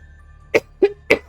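Three short, sharp coughs in quick succession, close and loud against a quiet background.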